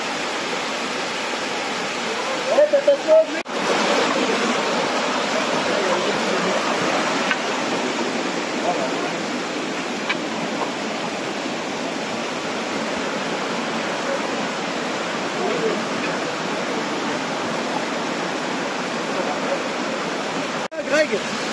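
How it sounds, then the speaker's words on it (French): A waterfall in the Vosges mountains roars as a constant broadband rush, steady and fairly loud throughout, with brief handling bumps and a few faint voices beneath. "Et la cascade."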